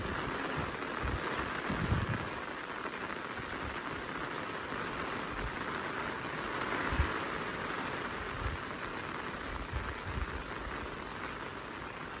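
Continuous broadband hiss of rain falling steadily over an open paddy field, with occasional soft low thumps; no voices.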